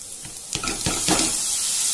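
Chopped tomatoes hit hot oil with frying onions for dal palak, a few soft splashes and stirring scrapes rising into a steady bright sizzle.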